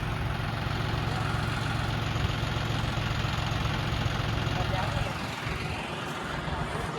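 A tractor engine runs on a farm where vegetables are being planted, a constant close rumbling drone that eases slightly near the end.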